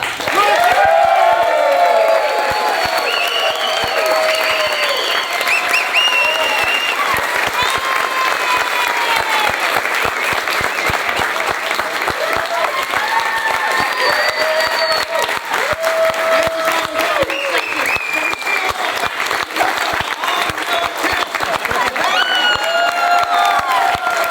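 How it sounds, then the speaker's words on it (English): A large bootcamp crowd in Puerto Rico breaks into sustained, loud applause with cheering and whoops, dense clapping filling the whole stretch at an even level, with voices calling out within it. "I need everybody to give the biggest round of applause"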